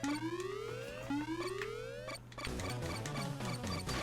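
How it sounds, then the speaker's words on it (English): Boss siren in the retro video game TGL Shadow of Naju, two rising electronic wails repeating in a loop, then cutting into chiptune boss music, with no talking. "There we go, there's the boss siren."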